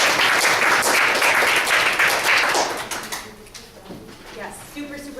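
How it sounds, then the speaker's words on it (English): An audience's round of applause at a talk on externship classroom discussion, loud dense clapping for about three seconds that then fades, leaving scattered claps and room noise. "Round of applause."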